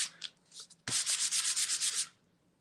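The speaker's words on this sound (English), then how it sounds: "let's get back to sanding" Rhythmic scratchy strokes of sanding across a layer of black acrylic paint on a mixed-media print, with a few soft rubs first, then a close burst of about ten quick back-and-forth passes that stop abruptly, no voices.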